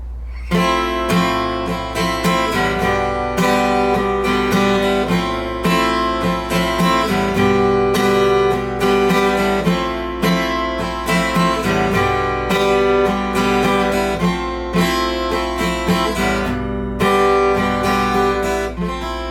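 An acoustic guitar strums all six strings through two chords in a down, down, down, up, down, up pattern, bright and even, repeating steadily up close without any talking.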